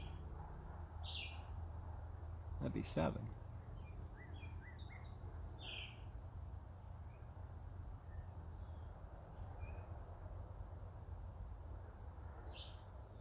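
Faint chirps and short calls from several birds come and go over a low rumbling background, with one brief remark spoken quietly.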